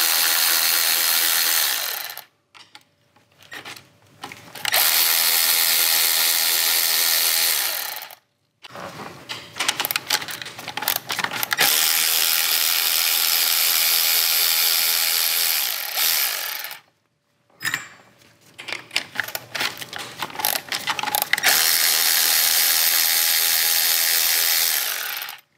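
A ratchet wrench loosens the coil pack studs on a VW Alltrack engine, giving long runs of rapid metallic clicking broken by short silent pauses.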